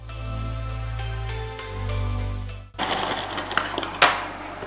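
A sewing machine top-stitches the seam of a semi-Patiala salwar, running in a steady close whir for a few seconds, then stopping for a burst of cloth handling and clicks.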